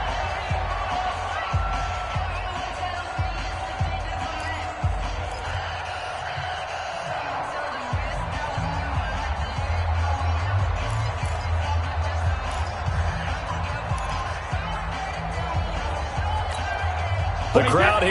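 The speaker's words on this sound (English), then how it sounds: "The crowd here in the Dome making things difficult." Steady stadium crowd roar inside the Dome during a Raiders at Saints football video game, a constant loud wash of voices and cheering with commentary talk over it.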